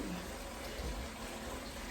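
Hot water from a tap runs steadily into a basin to fill a soak, a continuous gushing hiss that stays even and close, with no voices.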